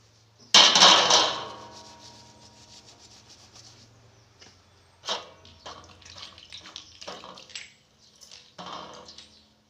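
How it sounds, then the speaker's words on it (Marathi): Small old brass elephant statuettes being rubbed and scrubbed clean, with a loud burst of rough scouring at the start, then intermittent brushing, clinks and wet rubbing strokes at close range, no talking. "त्यांना पण स्वच्छ मस्त घासून धुवून ठेवते मी"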